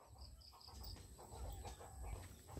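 Chickens clucking at a farm habitat, soft repeated clucks and scattered bird calls over a steady low outdoor rumble, with no voices.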